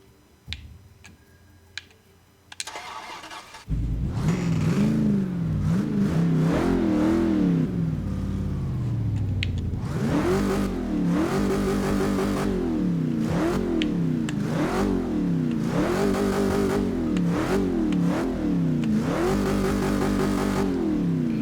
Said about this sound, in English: The V8 sounds quite nice.